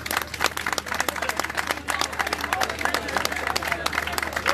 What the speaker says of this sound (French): S'il vous plaît, ovation pour lui.